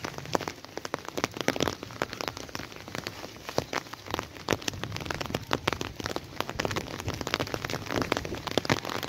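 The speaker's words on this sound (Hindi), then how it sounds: "माशाल्लाह से बारिश हो रही है" Rain pours down in a village in Pakistan, a dense, steady patter of drops striking surfaces with scattered sharper splashes, quiet and continuous with no voices.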